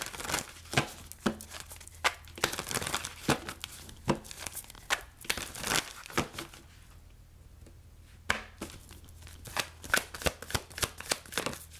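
A tarot deck is shuffled by hand, giving close riffling and slapping bursts with sharp card taps, a brief lull midway, and no talking.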